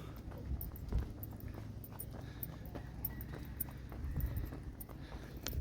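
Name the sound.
horses roaming around a temple in Thailand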